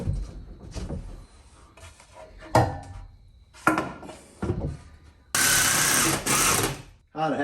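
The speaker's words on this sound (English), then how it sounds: "I just realized I can cut it through the wheel well real easy" A power tool cuts through a camper floor by the wheel well of a Sun Cruiser, with scattered knocks and clunks leading into a loud, sustained cutting burst near the close, and a voice talks in between.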